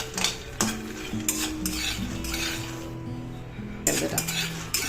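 A utensil stirs peanuts roasting in a dry pan over a lowered flame, scraping and clinking against the metal in irregular strokes, with a faint sizzle and some background hum, close and moderately loud.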